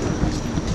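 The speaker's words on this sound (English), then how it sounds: "This is the Wynyard train station." A train at Wynyard station in Sydney rumbles steadily, with a dense low roar and faint rhythmic wheel clatter throughout and no voices.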